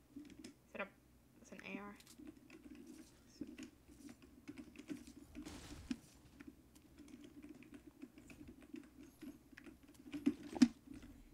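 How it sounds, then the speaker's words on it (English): Steady, rapid clicking of computer keyboard typing during a Fortnite game runs throughout, close and fairly soft, with a low hum and occasional faint voice underneath. "you hear my keyboard?"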